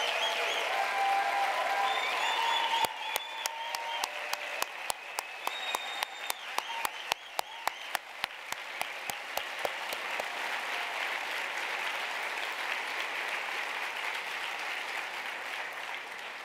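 Sustained applause from a conference audience at a drug policy reform gathering fills the room, with a dense wash of many hands clapping and a few sharp, close individual claps standing out before the sound settles into a steady roar.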